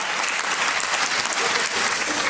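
A live audience at a talk on the Dharma on Long Island breaks into sustained applause, a dense, steady wash of many clapping hands at close range with no voices over it.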